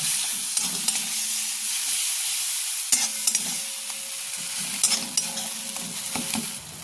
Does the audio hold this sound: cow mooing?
no